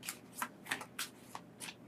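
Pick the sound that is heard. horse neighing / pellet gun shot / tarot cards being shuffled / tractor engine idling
tarot cards being shuffled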